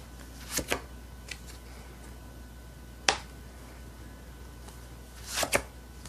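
Tarot cards being handled and drawn, giving a few soft riffling bursts and sharp flicks near 0.6, 3.1 and 5.5 seconds over a quiet room with no talking.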